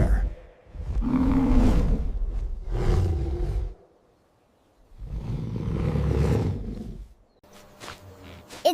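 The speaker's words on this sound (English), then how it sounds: "It's a bear." A bear at a zoo gives deep, rumbling roars in three long drawn-out bursts with pauses between them, loud and close.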